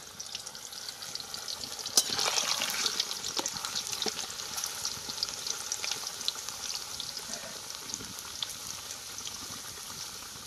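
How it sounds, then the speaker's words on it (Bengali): Potatoes fry in hot oil for mutton curry, a steady close sizzle that swells after a couple of seconds and crackles on evenly to the end. "এবার আমরা আলুটাকে ভেজে নেব"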